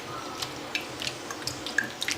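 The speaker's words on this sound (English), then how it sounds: "I'm gonna rinse my hand." Water from a tap runs steadily while a hand is rinsed under it, with small splashes and drips over a soft, constant flow.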